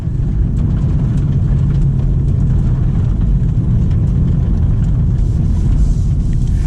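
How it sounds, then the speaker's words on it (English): Exhaust burble from a 2023 BMW M340i as the driver lifts off the gas, a steady, loud low rumble that fills the cabin throughout with no break and no talking. "Now you get some burble from that exhaust as I lift off the gas"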